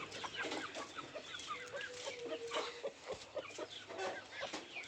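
Chickens gathering in a garden to be fed, clucking and calling repeatedly in overlapping bursts at moderate distance, fairly quiet, with no talk.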